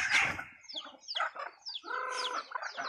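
A hen clucks in a string of short, throaty calls with brief pauses, close by, with no talking.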